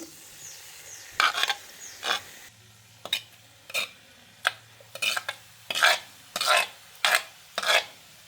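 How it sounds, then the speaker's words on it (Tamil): Chopped mushrooms go into a hot pan in a village-style kitchen, giving about a dozen short scraping, sizzling bursts in an uneven rhythm, close and fairly loud against a quiet background. "நான் இப்போ வெட்டி வச்சுருக்கிற காளானை சேர்க்கிறேன்"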